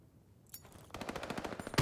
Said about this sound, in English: there are no snipers in play, just a lot of automatons firing off around the map